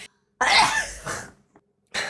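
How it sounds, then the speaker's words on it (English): A single sharp sneeze bursts out after a brief silence, close and loud, followed by a short softer exhale and a second burst of breath at the end. "I was so rudely interrupted by my sneeze"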